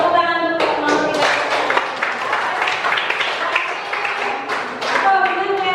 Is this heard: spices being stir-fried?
no